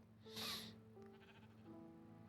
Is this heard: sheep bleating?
yes